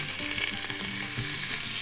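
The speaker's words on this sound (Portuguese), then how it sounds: "Pode deixar no fogo alto para poder selar" Pork ribs sear in a pan over high heat, giving a loud, dense, continuous sizzle with faint clattering, close up and without talk.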